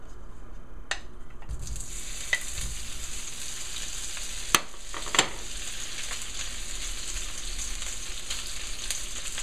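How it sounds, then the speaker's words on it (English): Cubes of Spam searing in a hot pan for fried rice, giving a steady close sizzle and crackle with a few sharp pops and scraping stirs, and no voices. "And all I want to do is just sort of sear all the sides."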